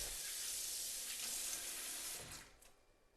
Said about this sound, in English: Always wash your hands thoroughly with antibacterial soap and water before you start.